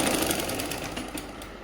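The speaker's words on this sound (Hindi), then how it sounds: "इधर भी डबल सिलाई लगा दीजिए" A sewing machine runs a double line of stitching along the seam of a Patiala salwar. It makes a fast, steady, close-up whir at low level with no talking.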